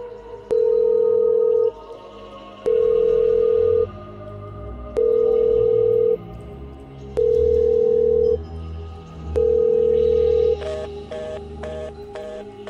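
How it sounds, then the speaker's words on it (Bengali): A telephone ringback tone sounds five times in slow, evenly spaced pulses, each about a second long, with a faint low hum underneath. "ফোন রিং হয়ে কেটে গেল।"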